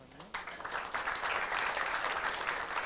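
An audience at a Korean venture forum breaks into applause after a brief spoken introduction, the clapping starting abruptly and building into a dense, steady wash of hands that carries on at moderate volume.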